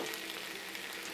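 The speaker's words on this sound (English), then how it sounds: "Sausages are still actually cooking over here. You just barely hear them sizzling a little bit." Italian sausages on a grill give off a soft, steady sizzle, a faint continuous hiss with no voices.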